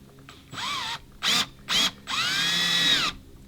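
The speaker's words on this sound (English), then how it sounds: "let's see if I can cut this. I have the drill on the lower speed." A power drill on low speed whines in several bursts while cutting for a tow hitch on a 2004 Volvo XC70: one short run, two quick blips, then a longer steady cut, loud and close with no talking.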